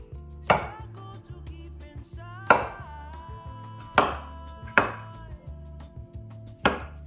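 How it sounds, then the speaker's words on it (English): A knife cutting small washed potatoes in half on a board, five sharp distinct chops spaced about a second or more apart over a low background hum, close and clear. "10 potatoes. Gonna just cut them in half."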